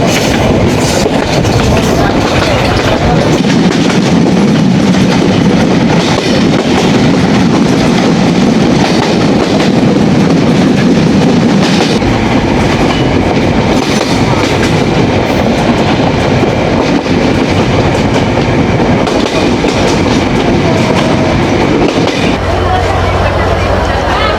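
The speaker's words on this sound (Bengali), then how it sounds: "আর আসলাম আজকে কপোতাক্ষ এক্সপ্রেস ট্রেনে।" The Kopotakkho Express rolls along the rails toward Rajshahi in a loud, continuous rumble with rhythmic clickety-clack, heard from nearby throughout, and voices faintly mixed in.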